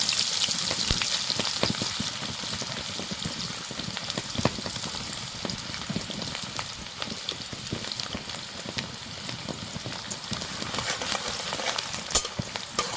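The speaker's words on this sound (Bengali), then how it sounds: "হালকা একটু ভেজে নেবো, তারপর মাছগুলো দিয়ে দেবো।" Chopped onions with dried chilli fry in hot oil, giving a continuous close crackling sizzle with scattered pops and occasional stirring scrapes.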